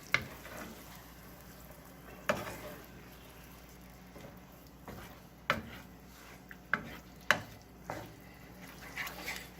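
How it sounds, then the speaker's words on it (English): Cream cheese sauce thickening in a pot on low to medium heat, stirred with intermittent scraping knocks against the pot over a soft, quiet sizzle throughout. "keep it moving so you're not burning anything on the bottom of the pot"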